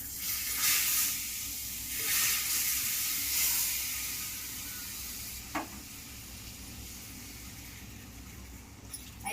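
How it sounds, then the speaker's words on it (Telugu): Hot tempering (popu) poured into gudala rasam, giving a steady sizzle and hiss with several louder bursts early on, then a quieter simmering fizz; no speech. "ఇప్పుడు పోపు ఇలా పోసుకుందాం చారు"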